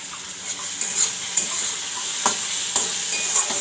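Food sizzling steadily in a hot pan on a home stove, with occasional light clinks and scrapes of a stirring utensil over the constant close frying hiss.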